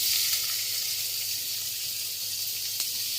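Onions sizzling in a pan for a one-pot tomato biryani, a steady hissing crackle that holds evenly and close throughout with no talk.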